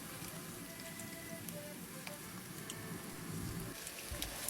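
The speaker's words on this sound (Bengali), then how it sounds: "এবার এটাকে উল্টিয়ে পাল্টিয়ে গোল্ডেন ব্রাউন করে ভেজে নিতে হবে।" A potato kabab fries in hot oil in a pan, giving a steady, even sizzle and crackle that runs without a break and is of moderate loudness.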